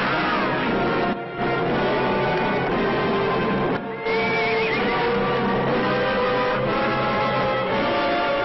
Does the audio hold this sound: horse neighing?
yes